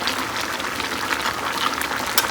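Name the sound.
vegetable curry with ash gourd, potato and bori cooking in pan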